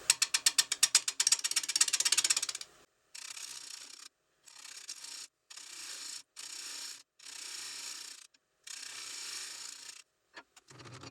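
A bowl gouge cuts a roughed wooden bowl spinning on a lathe: a fast ratcheting chatter at first, then a series of separate hissing, scraping passes with short pauses between them and no voices.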